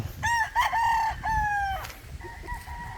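Young stag roosters tethered outdoors crow in a couple of long, drawn-out calls, close and loud, followed by a fainter crow from another bird against low background noise.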